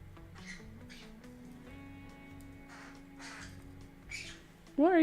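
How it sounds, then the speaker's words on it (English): Crows caw outside near a garden craft table, several separate harsh calls spread across the moment, fairly faint at a distance, with a louder squawk at the end. "What are you talking about, birds?"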